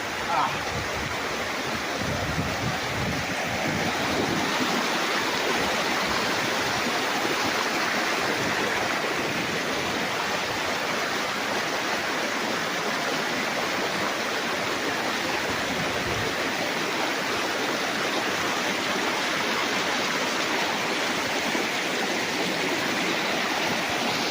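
Water rushes steadily and continuously, a broad even roar of a flowing river in Liliw, Laguna, heard close up, with no pauses.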